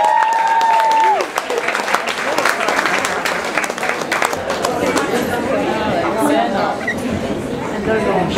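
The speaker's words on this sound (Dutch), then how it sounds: "Mag ik alsjeblieft een groot applaus" An audience applauds in a café in Antwerp after a live music act, a dense, sustained clapping that fills the room, with chatter and voices mixed in and a brief tone at the start.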